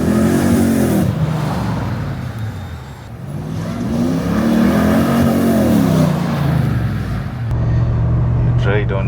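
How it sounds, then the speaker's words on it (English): A supercharged 2UZ V8 in a 100 Series Land Cruiser revs loudly and repeatedly, rising and falling in pitch as the throttle is worked, close and powerful, ending in a steady idle. "once you've got an engine that sounds like that."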